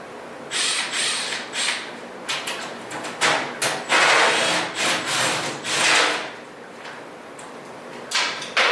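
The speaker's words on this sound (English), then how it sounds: "this is the flexible shaft for my drill, and that way I can get back in these corners" Drill fitted with a flexible shaft working into corners during a flight simulator cockpit rebuild, giving intermittent grinding, rubbing bursts of varying length close to the microphone, with no talking.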